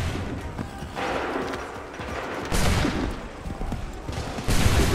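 Musket volleys in the video game Assassin's Creed 3: a few loud, close, booming massed discharges a couple of seconds apart, with clattering battle noise between them and no speech.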